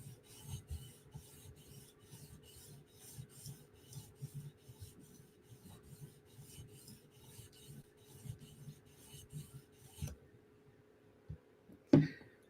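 A Chris Reeve Umnumzaan tanto knife drawn across a sharpening stone at about 800 grit in even, rhythmic raspy strokes, close and steady, that stop near the end before a sharp clack.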